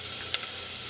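Chopped garlic cloves and a little onion sizzling in about a tablespoon of olive oil in a pan, a steady close hiss with one brief sharper crackle, no talking.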